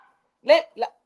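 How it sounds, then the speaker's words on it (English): A dog barks twice in quick succession close by indoors, two short loud yaps with a brief gap between them and no talk over them. "Mac Breeze, your dog your dog barking."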